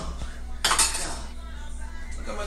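A pot and metal utensils clank while scrambled eggs are cooked, a bright burst of metallic clatter followed by softer scraping, heard close over a steady background hum.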